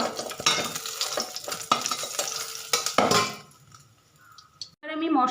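Fish fried until reddish in a pan for a potato fish curry, a busy sizzle with repeated scraping and clinks of a utensil that fade into near quiet before a voice starts talking.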